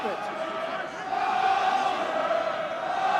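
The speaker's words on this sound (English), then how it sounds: "Crowd a little bit more vociferous now in this second half." Rugby union crowd noise at an Ulster versus Ospreys match: a steady, broad roar of many voices that swells and grows louder partway through and stays raised, with indistinct shouting mixed in.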